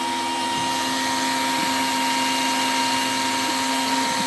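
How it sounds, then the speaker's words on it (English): A workshop vacuum used for plastic processing runs close and loud, a steady high whine with a constant tonal hum and no pauses, and a few faint knocks underneath. "Now, turn on the vacuum."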